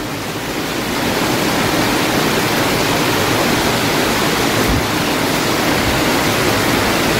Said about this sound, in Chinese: 这雨也太大了吧！